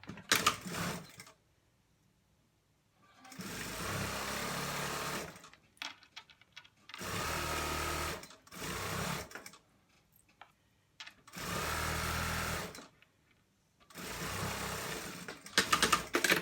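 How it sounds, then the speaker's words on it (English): A flatbed sewing machine stitches seams on a fleece hoodie in several bursts of a few seconds each, a fast steady whirring rattle separated by quiet pauses while the fabric is repositioned. "I'm going to sew all this on the flat machine"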